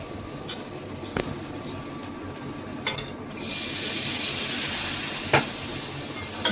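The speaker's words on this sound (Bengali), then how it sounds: "পানি দিয়ে দিলাম" Water hits hot oil with turmeric, chili and coriander powder in a pan for a Bengali eggplant and fish curry, bursting into a loud continuous sizzle and steam hiss after a few faint stirring scrapes and clinks.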